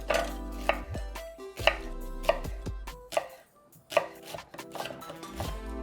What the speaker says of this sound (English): Okay, let's chop our onion.